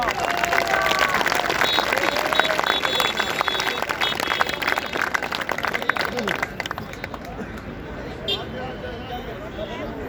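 Enthusiastic audience applause welcoming a speaker at a briefing event, loud continuous clapping with crowd murmur throughout, easing slightly toward the end.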